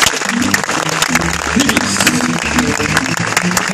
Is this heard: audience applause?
yes